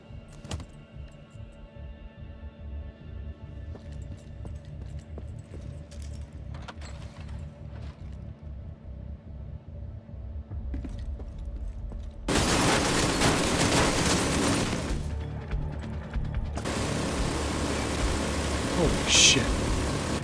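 An ammo stockpile detonating in the video game The Division 2, heard as a sudden loud burst of dense crackling explosions that cuts in over a steady rumbling background, fades briefly, then roars back.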